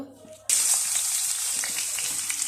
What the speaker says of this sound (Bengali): এখন আমি কড়াইতে চালগুলো দিয়ে দেব।